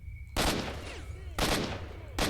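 Gunfire in a night shootout in the video game S.T.A.L.K.E.R.: Shadow of Chernobyl: three loud, close bursts of shots, each lasting under a second, spaced about a second apart, with quieter ambient game sound between them.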